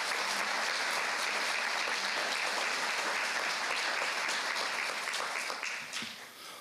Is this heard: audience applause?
yes